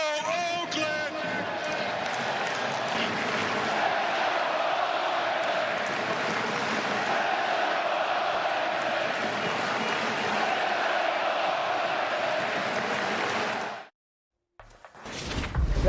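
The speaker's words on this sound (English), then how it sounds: "I ask you for one more time to start the greatest cheer in baseball" A baseball stadium crowd in Oakland roars through a sustained chant and cheer at the A's final game there, a dense wall of massed voices that cuts off abruptly near the end.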